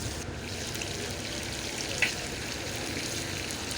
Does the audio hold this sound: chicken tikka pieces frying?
yes